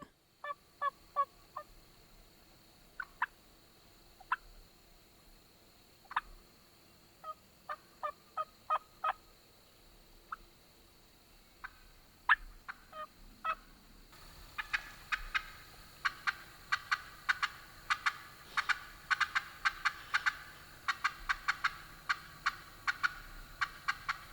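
Wild turkeys call in short yelps and clucks at mid distance, scattered at first, then a faster, denser run of calls in the second half, including a hen.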